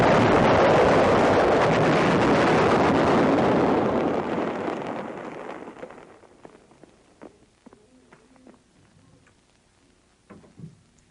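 The Little David mortar fires a shell with an instantaneous fuse setting, giving a huge, loud roar that rolls on and fades away over about four seconds, leaving near silence broken by scattered faint ticks and clicks.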